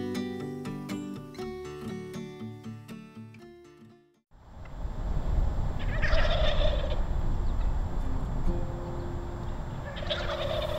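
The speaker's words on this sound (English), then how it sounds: "These mature male turkeys, called toms, are doing their best to court the female hens of the flock." Wild male turkeys gobble in winter at the edge of Swan Creek Metro Park in Northwest Ohio. Music plays first, then goes quiet, and outdoor ambience follows with a few loud, rolling gobble bursts at intervals.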